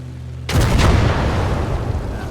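A loud, sudden bomb blast in the WWII game Kampfgruppe erupts after a brief quiet moment, then rolls on as a sustained rumbling, crackling roar that fills the rest of the moment.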